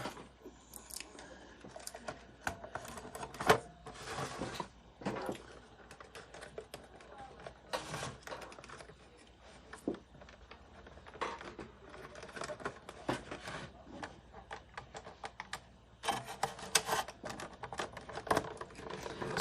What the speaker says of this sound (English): So let's reassemble the radio.